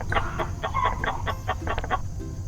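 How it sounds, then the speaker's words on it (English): Chickens cluck on a farm in a quick burst of short, bright calls repeated in a loose rhythm, fairly close and heard alone without talk. "They hear a chicken sound."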